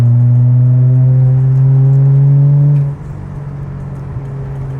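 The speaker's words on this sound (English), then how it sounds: "just rev it up." A 1994 Toyota Chaser engine held at a loud, steady droning rev that rises slightly and then drops away to a lower rumbling idle, close and alone.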